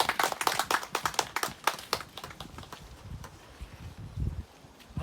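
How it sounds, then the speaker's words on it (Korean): Scattered clapping from a small crowd at an outdoor memorial ceremony for workers killed on the job, individual sharp claps that thin out and fade, with quiet rustling in between. "나오실 때 박수 부탁드립니다."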